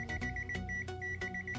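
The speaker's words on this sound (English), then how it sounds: "On good section it will show you continue beep." A ZT-X digital multimeter sounds its continuity test beep, a steady high electronic tone that breaks into rapid pulses and stutters, loud and close, with no speech.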